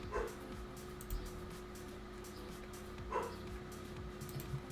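Dogs in the Planet Zoo game give a few short, separated barks at moderate distance over a steady low background hum.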